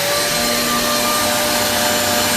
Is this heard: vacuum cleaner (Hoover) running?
yes